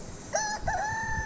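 A rooster crows once, a loud, drawn-out call that rises and then holds steady for about a second.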